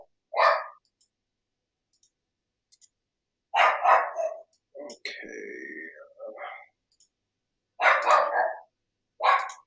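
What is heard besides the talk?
dogs barking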